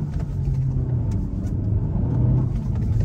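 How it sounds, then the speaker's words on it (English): A 2022 Honda Civic's engine revs, giving a strong, close mid-low drone that rises and swells steadily over about three seconds, with no talk over it. "It revs easily to redline."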